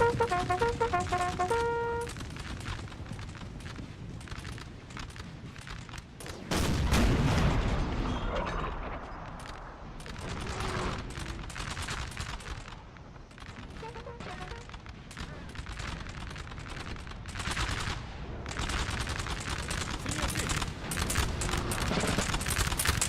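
Continuous battlefield din in Napoleon Total War 3, with rolling musket volleys, booming artillery and crackling gunfire layered densely throughout, one heavy low blast standing out midway.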